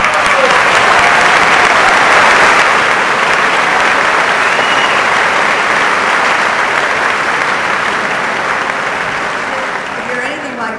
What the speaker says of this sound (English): Let's give ourselves a clap.